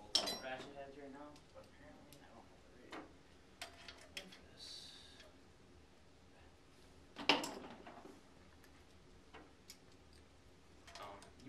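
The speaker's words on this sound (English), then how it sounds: "All I'm doing is switching out the bolts, or not bolts, ratchet heads right now." Ratchet heads being swapped on a ratchet, giving scattered small metallic clicks and clinks near the mic, with one sharper clack partway through, against a quiet background.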